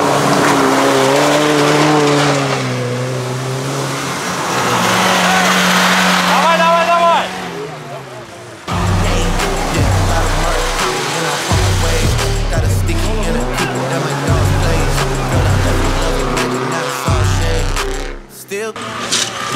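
UAZ and Niva off-road cars race up a hill at an off-road competition in Chechnya, their engines roaring and revving close by with rising and falling pitch, and voices are heard over the noise.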